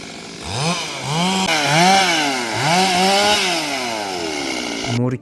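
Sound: trees being cut down to level land

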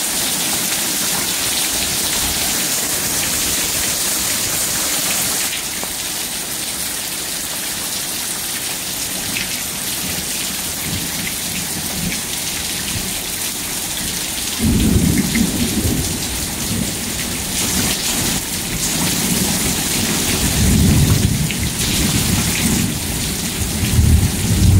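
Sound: heavy rain and thunder in a lightning storm

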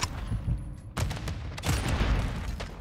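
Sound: gunfire in a Call of Duty video game match

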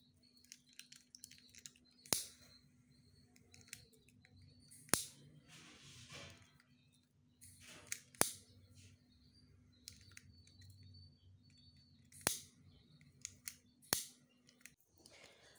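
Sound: scissors cutting a single layer of lace

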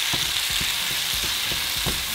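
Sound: burrito filling with oregano, cumin and chili cooking in pan

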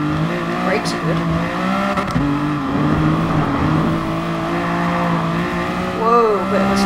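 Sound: BMW Vision Gran Turismo car sliding, Gran Turismo Sport video game

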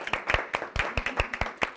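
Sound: group applause

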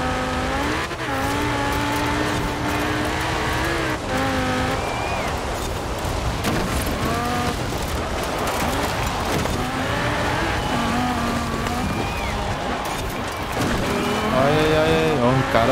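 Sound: car engine racing in the video game Forza Horizon 4

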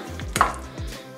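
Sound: mixing eggs and avocado in a breakfast bowl

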